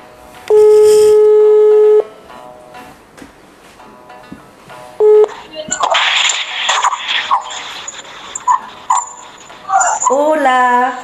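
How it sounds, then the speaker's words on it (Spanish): A video call placed to someone in China gives a loud, steady dialing tone, a short repeat, then connecting chimes and bright electronic tones over noisy chatter, ending in a warbling tone. "Intentamos conectar con Fran y con China, a ver qué pasa"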